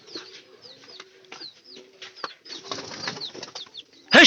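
Pigeons being released take off in a rustle of flapping wings, mixed with soft coos and thin chirps, before a sudden loud flurry of wingbeats close by at the end.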